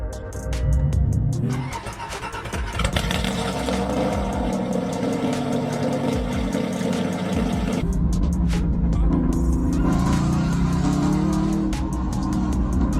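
A restored Aston Martin starts with a loud churn and then runs at a steady, heavy idle, close up, with a few sharp metallic clicks near the end.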